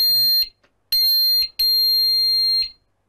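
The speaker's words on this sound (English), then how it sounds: "now one blip, the alarm is set." A Pyronix Enforcer alarm panel gives loud, piercing electronic tones while being set, with three sustained high beeps separated by short silences, close and alone.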